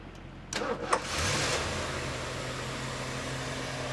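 The engine of a 1976 Lincoln Continental Town Coupe with automatic transmission cranks briefly, catches, and settles into a steady, smooth idle that continues to the end.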